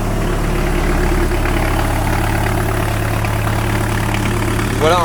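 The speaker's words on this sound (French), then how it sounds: "Il n'y a pas de délire chelou au niveau du moteur." An offroad custom van's engine idling after being restarted, a loud steady low rumble close by with a faint voice briefly audible over it.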